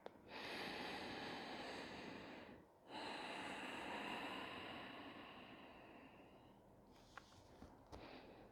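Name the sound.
deep breathing in and out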